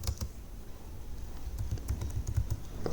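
Code is typed on a computer keyboard: a quick, uneven run of soft, close key clicks, a little busier toward the end.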